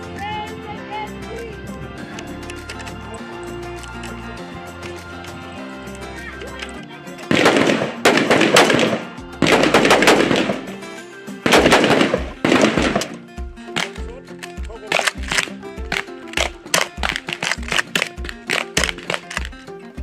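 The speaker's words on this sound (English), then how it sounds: "Now we are at the shooting range, where trainees will be demonstrating to us the different parts of the firearm and how to shoot accurately" Police trainees of the South African Police Service fire at an outdoor shooting range, with loud bursts and clusters of shots over a background of music, followed by a faster run of single sharp cracks.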